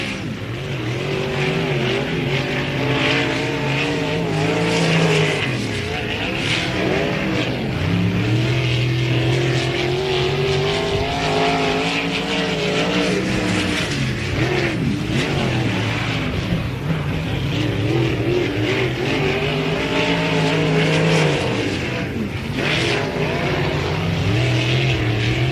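Race cars roar around a short track at a BOSS Series event, a dense, continuous engine howl with rising and falling pitch as cars pass and shift, loud and unbroken for the whole stretch with no talking.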